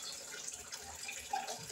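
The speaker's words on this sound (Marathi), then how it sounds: "आता मी काय करते नळ बंद करते" A household water tap runs into a clay pot, a soft steady trickle and splash at low level, with a brief louder clunk near the end as the flow stops.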